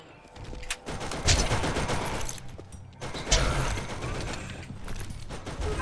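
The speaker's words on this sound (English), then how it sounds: "John, don't shoot me with the pew-pew gun" Gunfire from a gun in the Borderlands video game, bursts of rapid mechanical shots in two clusters with clicking and ratcheting between them, fairly quiet.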